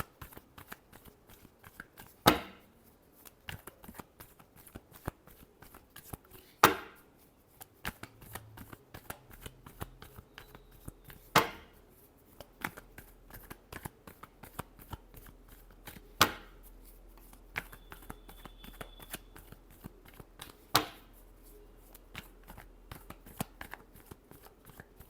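Tarot cards being shuffled by hand at close range, with soft riffling and sliding broken by several sharp slaps as the deck is squared, spaced every few seconds in a quiet room.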